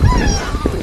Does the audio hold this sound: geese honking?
yes